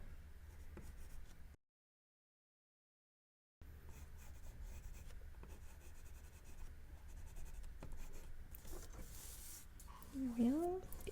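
Colored pencil scratches across paper in a soft, continuous close-up sound, with a brief silent gap and a faint voice talking under it.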